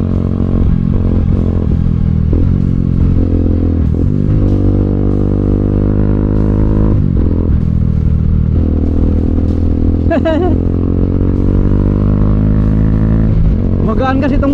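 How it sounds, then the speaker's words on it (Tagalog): A light motorcycle engine drones steadily and loudly throughout on a mountaintop road, with its pitch rising and falling as the rider throttles, plus occasional rattles. "Magaan kasi itong motor na to eh, kaya napakadali niya iliko eh."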